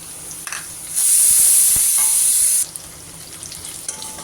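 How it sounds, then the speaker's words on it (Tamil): Chillies and small shallots hit hot oil for a chicken pepper fry, a sudden loud hissing sizzle lasting about two seconds before it settles to quiet crackling, close and with no talking. "நல்லா சின்ன வெங்காயமும் அதில் எண்ணெயிலே வதங்கணும்."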